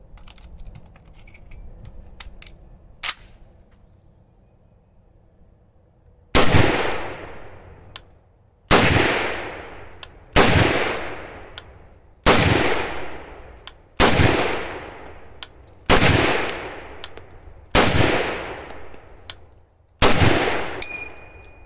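An M1 Garand rifle fires eight loud shots at a steady pace of about one every two seconds, each with a sharp crack and a long echoing tail. A metallic ping rings out right after the last shot, following a quiet stretch.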